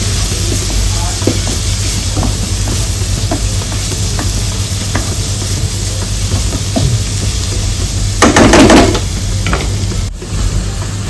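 Masala of coriander, chilli, turmeric and garam masala stirred in a pan, a steady close sizzle and hiss with soft scraping strokes and a brief louder burst of frying near the end.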